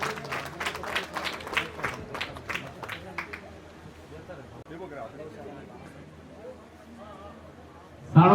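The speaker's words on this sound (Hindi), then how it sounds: "पुनः जोरदार ताली बजाकर स्वागत करें।" A crowd at a community honouring ceremony in Chanoud claps loudly in a burst of applause welcoming guests, tapering into scattered claps and murmuring before a sudden loud noise at the end.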